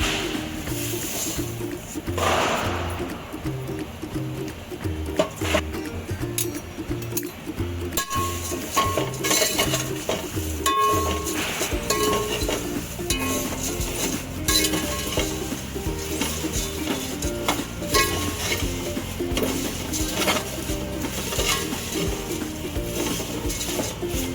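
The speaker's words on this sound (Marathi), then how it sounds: "थोडे थोडे करून पोहे आता भाजून घेणार आहोत" Sifted poha, flattened rice for Diwali chivda, roasts in a pan while being stirred gently, producing a continuous dry sizzle and rustle with scraping strokes and occasional metallic clinks of the spoon, close up and without speech.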